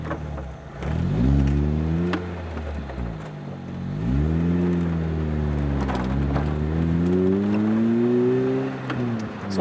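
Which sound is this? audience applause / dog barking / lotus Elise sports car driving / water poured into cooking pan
lotus Elise sports car driving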